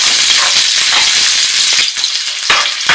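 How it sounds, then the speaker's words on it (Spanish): Garlic and onion fry in a pan, a loud, close, dense sizzle that runs throughout, with a couple of scraping stirs near the end and no talking. "Continuamos a freír el ajo y la cebolla."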